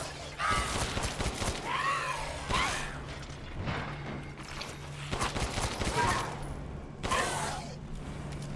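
Repeated bursts of gunfire from the video game Resident Evil Village ring out in clustered volleys with mechanical clicks between them, while a player's voice comes and goes underneath.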